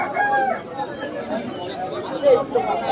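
A rooster crows amid busy chatter at a crowded Bangladeshi village haat in Basirhat where poultry and pigeons are sold, the call fairly near but partly buried under constant voices.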